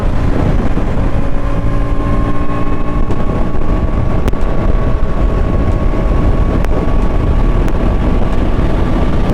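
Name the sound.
motorcycle riding in sixth gear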